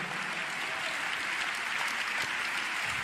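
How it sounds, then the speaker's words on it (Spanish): A church congregation applauds in a dense, steady wash of clapping that fills the room and holds at an even level throughout, with a few sharper claps standing out near the end. "Dele un aplauso al Señor en esta hora."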